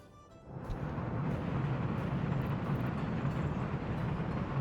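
A train runs in the city-building game Workers and Resources, a steady low rumble that swells in after a brief quiet start and holds evenly.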